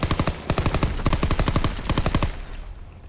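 Rapid bursts of flak gun fire in a WWII video game, aimed at parachutes drifting down, heard as a fast, loud, evenly spaced string of heavy shots that breaks off briefly and then resumes before fading at the end.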